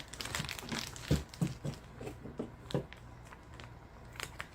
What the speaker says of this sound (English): I have to cut the bag and get this out of here.